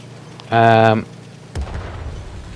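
Artillery fire in a tank video game: a short tonal game sound, then a single sharp boom trailing into a low rumble, fairly loud with no speech over it.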